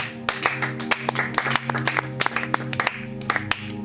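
A church congregation claps in a steady rhythm during a worship service, sharp hand claps punctuating sustained music or singing underneath.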